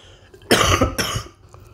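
Two harsh, close coughs in a row from an ill man, the first longer and raspier, then quiet.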